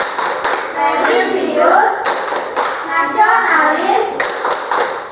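A classroom of children chants a PPK value chant in unison and claps in rhythm, with bursts of claps between the spoken lines. The group voices are loud and close, filling the room.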